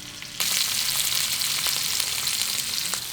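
Food sizzles and spits steadily in a hot pan with garlic, the frying starting abruptly and continuing loud and close with small crackles and pops, no talking.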